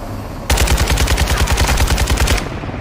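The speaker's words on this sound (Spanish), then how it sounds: "Una ametralladora ligera." A light machine gun fires a single sustained burst in Call of Duty Modern Warfare 2, loud rapid rhythmic shots for about two seconds before cutting off abruptly.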